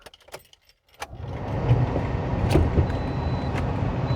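Car keys jangling during removal of the stock stereo from a 2009-2013 Toyota Corolla, a few light metallic clinks at first, then a steady low rumble of the car with occasional sharper jingles above it.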